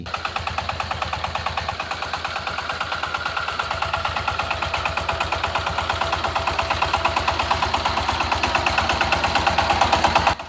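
A car engine runs with a fast, regular chugging pulse, holding steady and growing slightly louder over about ten seconds, with no voices.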